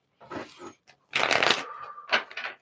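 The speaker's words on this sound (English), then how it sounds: "Let's shuffle the tiny baby deck and see what your overall approach is to the 12 signs" A small tarot card deck shuffled by hand, with several quick riffling bursts separated by short pauses, close and clear with no talking.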